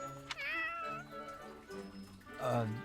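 A cat meows several times in the Fire Emblem video game, with drawn-out, close and fairly clear cries mixed in with speech.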